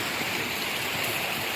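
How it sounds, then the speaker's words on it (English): A small mountain creek in Pisgah Forest flowing steadily, a close, continuous wash of rushing water with no voices. "we're now following this small little creek, which is beautiful"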